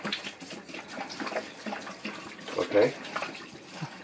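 RV antifreeze poured from a jug into a drain trap during winterizing, uneven splashing and gurgling of liquid in bursts, with a person speaking briefly nearby.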